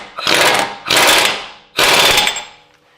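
Three loud, close bursts of a rattling impact tool tighten down the axle nut during a drivers side axle seal job on a 2007-2017 Ford 6F50 six-speed transmission, each burst dying away before the next.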